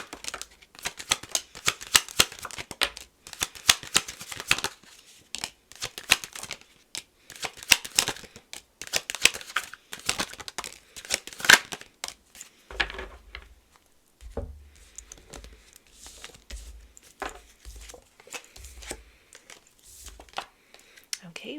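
Tarot cards are shuffled close up in quick, rustling bursts of riffling and sliding card stock, repeated over and over, followed later by softer handling and dull thumps.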